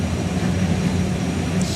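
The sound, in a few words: turbine-powered drag car Fire Force 2 starting up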